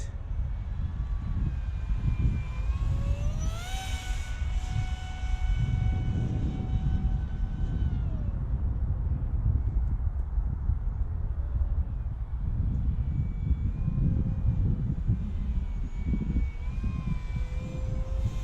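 Engine of an X-41 Deltastorm aircraft in flight in a video game, a steady loud drone with shifting pitch running alone for the whole stretch as the plane lines up to land.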